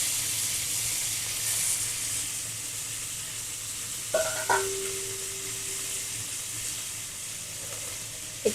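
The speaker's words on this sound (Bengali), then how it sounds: "কাঁকড়া একটু ভেজে নেওয়া হবে তেল দিয়ে।" Crab frying in hot oil in a home kitchen, a constant dense sizzle and hiss throughout, with a brief clatter of utensils midway followed by a faint ringing tone, no talking.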